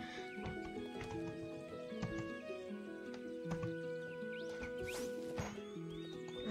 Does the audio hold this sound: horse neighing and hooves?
yes